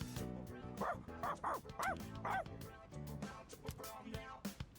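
Koromaru the dog barking in Persona 3 Reload, a string of five or six sharp, close barks in quick succession, followed by softer yips and whimpers.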